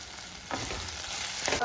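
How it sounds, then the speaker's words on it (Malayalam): Fried ivy gourd stirred into softened tomato and onion in a pan, an even hiss of frying with a couple of quick spatula scrapes, close and without speech. "അതെല്ലാം കൂടെ നമ്മൾ നന്നായിട്ട് ഇളക്കി കൂട്ടിയിട്ടുണ്ട്"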